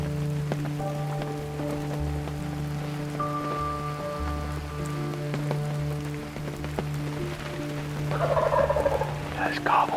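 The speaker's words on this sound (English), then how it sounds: "There's gobbles here." Wild turkey gobbling from a roost in the Ontario woods at a distance, its calls rising over steady rain patter and a constant low hum, with a louder burst near the end.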